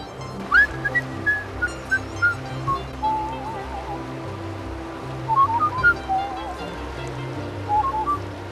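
A person whistles short, pitched notes in several bursts, moderately loud over a steady background rumble of water or wind.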